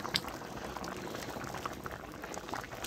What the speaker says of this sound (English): This is the boil we wanted.